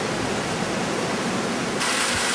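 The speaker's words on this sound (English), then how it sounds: "So here's the brook that flows down into that gorge." A brook rushes down toward a gorge on a wooded hiking trail, a steady broadband watery roar close by with no voices, filling the whole moment evenly.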